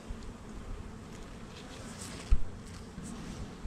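Bees buzz steadily around an open hive while a nucleus colony is being made, a soft, continuous drone with a brief louder thump midway and no talking.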